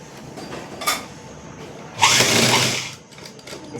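A sewing machine runs a seam on a baby frock for a six-month-old, with a short buzz of stitching near the start and a louder, steadier burst of stitching in the middle, close and clear over a quiet room.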